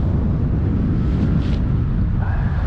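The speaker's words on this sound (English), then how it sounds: "A lovely wind today." Steady, loud wind rushing across the microphone on a damp winter paragliding hill facing an easterly breeze, a continuous low roar with no talking.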